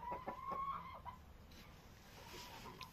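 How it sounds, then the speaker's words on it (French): A rooster clucks a few times, close by, with a short series of throaty calls early on and quieter farmyard murmurs afterward. "Donc le coq, vous voyez, il est magnifique."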